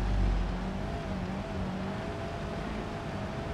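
A Dacia Logan with rally suspension drifting in BeamNG.drive, its engine holding a steady, moderately loud hum with a faint whine that wavers slightly through the slide, unbroken and with no voices.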